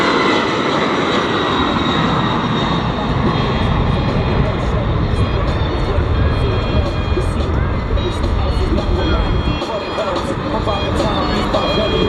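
A Lockheed C-5M Super Galaxy jet transport flies a demonstration at the Dover air show, its engines producing a loud, continuous roar that fills the whole stretch, with crowd noise and a voice underneath.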